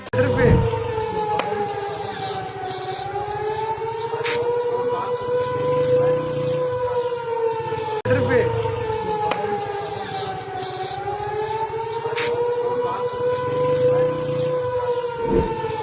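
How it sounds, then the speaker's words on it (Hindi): Air raid sirens wail steadily in long rising and falling cycles, with a distant second siren layered underneath and faint background noise. "लगातार जंगी सायरन, अलर्ट सायरन सुनाई दे रहे हैं"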